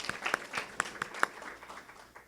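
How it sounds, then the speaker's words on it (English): A brief patter of audience applause at a college welcome-back speech, scattered individual claps that thin out and fade within a couple of seconds. "we're also going to please give her a round of applause"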